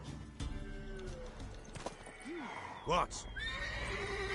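A horse in the video game Witcher 3 whinnies with rising and falling cries and clip-clops nearby, while people talk briefly.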